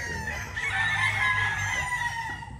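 A White Claret gamefowl rooster crows close by in one drawn-out, strained call lasting a couple of seconds, loud and clear with no voices over it.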